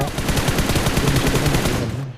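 Rapid automatic gunfire in the mobile battle royale game BGMI, a fast, loud burst of evenly spaced shots that cuts off abruptly near the end.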